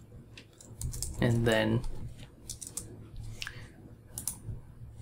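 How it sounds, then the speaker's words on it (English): Someone types a command-line instruction to render Quarto slides on a computer keyboard. The quick key clicks come in bursts and run under a brief stretch of talk in the middle. "I can type Quarto render"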